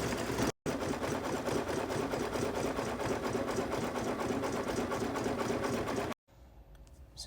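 A computerized embroidery machine stitches satin-column underlay on an in-the-hoop peppermint ornament, a steady loud rapid mechanical whir with a brief stop near the start and a halt before the end, leaving quiet ambience.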